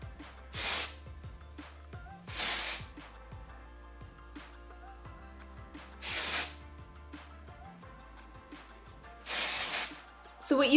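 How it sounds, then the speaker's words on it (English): An Isilon Without a Trace dry shampoo aerosol sprays onto hair in four short, loud hissing bursts spaced a few seconds apart, with quiet handling sounds between them. "my favorite dry shampoo that does not leave a powdery kind of cast on the hair is the Isilon Without a Trace Dry Shampoo"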